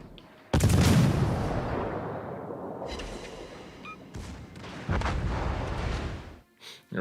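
Heavy naval gun salvos from the battleship Colorado in a video game, deep booming blasts with long rolling rumble, loud and close, overlapping in sustained waves.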